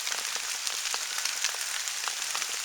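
Steady rain patters on a surface at a rainy hammock campsite, a dense continuous hiss of drops with scattered sharper ticks, constant and fairly close throughout.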